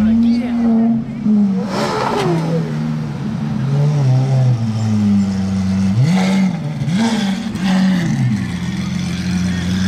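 A Brabus Mercedes G-Class revs hard at a Gumball 3000 gathering in Calais. Its loud, close engine note rises and falls through several throttle blips, with crowd noise and voices around it.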